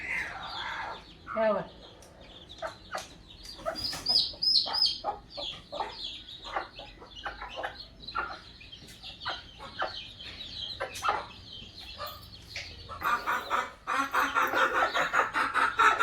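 Desi (gavran) chicks and hens cheep and cluck in a busy, continuous chorus close by, with someone talking over the birds.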